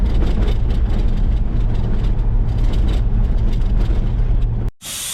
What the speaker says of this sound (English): Letting the tyres down to get on the beach.